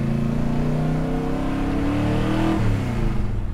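A loud 700 hp 1967 Ford Fairlane engine revs and roars continuously, its pitch sliding up and down as the throttle opens, heard close with no voices.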